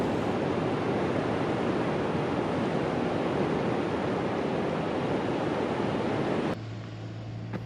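Ocean waves pounding the shoreline at Cape Lookout on the Oregon coast in January, a steady broadband surf roar with wind rumble that continues unbroken before dropping to a quieter wash near the end.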